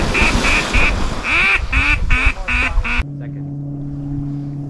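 Ducks quacking in a rapid rhythmic series of loud nasal calls during a duck hunt, with hunters' voices mixed in, then cutting to a steady low hum.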